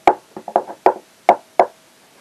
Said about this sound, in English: Just as they finished, there was a knock at the door.